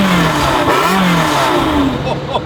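A Koenigsegg supercar's engine revs hard, with rising and falling pitch sweeps and a loud, raspy growl, heard close up from behind the car.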